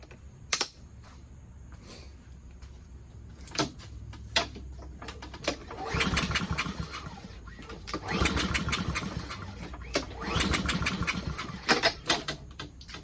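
A Toro Recycler mower with a Honda GCV160 engine is pulled repeatedly without firing, giving rattling, chattering bursts from the starter and engine that rise and fall over several attempts.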